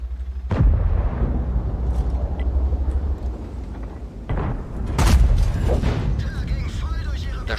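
Tank guns booming in the World of Tanks game, including a Jagdtiger Tier 9 match, with loud blasts near the start and again around the middle over a steady engine rumble, a voice talking underneath.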